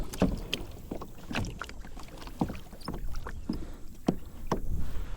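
A pedal-drive fishing kayak moves through water in deep water near oyster beds, giving close, soft splashes and gurgles at a loose rhythm with no talk.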